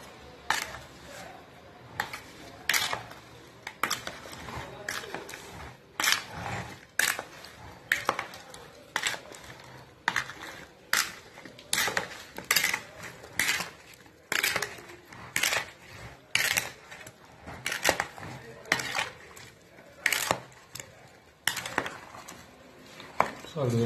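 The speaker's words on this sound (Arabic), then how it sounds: "وعاد غادي نحرك هذا الشيء كامل، غادي نخلط الخليط هذا كامل" A spoon stirs and mixes a fruit salad with sugar in a bowl, giving soft repeated clinks and scrapes against the bowl at an uneven, steady pace, faint and close.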